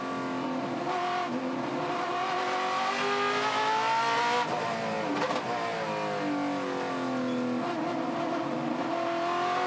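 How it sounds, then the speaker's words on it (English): A touring car engine at Hidden Valley revving up and down in repeated throttle blips during a race, its pitch rising and falling, with some tire squeal, close and loud throughout. "You can hear him just playing with the throttle."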